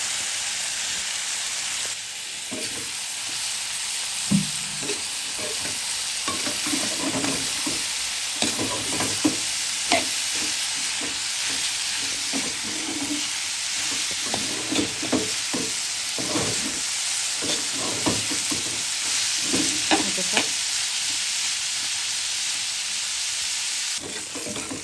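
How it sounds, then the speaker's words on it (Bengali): Papaya and carrot bhaji frying with whole green chillies, a continuous loud sizzle with frequent spatula stirring and scraping across the pan, no voices. "ভাজা ভাজা করবো"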